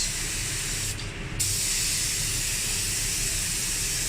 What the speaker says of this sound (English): You can see when he's spraying it